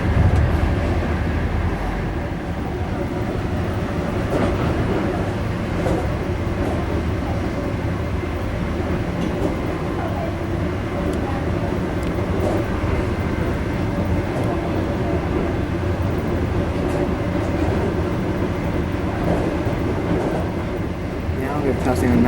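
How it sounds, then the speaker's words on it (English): Inside an overnight sleeper train near a high-speed train repair center, another train set passes. It makes a steady, heavy rolling rumble that continues throughout, with faint clicks over it and someone speaking at times. "Oh, there's another train set"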